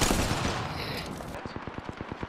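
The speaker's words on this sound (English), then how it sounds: "Where's this guy shooting you?" Apex Legends gunfire, a dense loud burst at first, then a fast automatic string of about ten evenly spaced shots that sound a little more distant.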